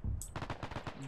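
Rapid bursts of automatic gunfire crackle in a World War II combat game set during the Battle of Tarawa, a short burst of quick repeated shots with a sharp crack at the start, moderately loud.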